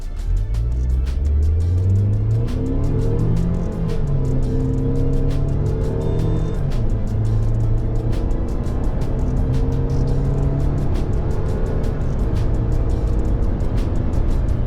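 A petrol Tata Harrier or Safari SUV engine revs up from a stop with two aboard and AC on, climbing through several gear shifts, each dipping the pitch before rising again, loud and steady from inside.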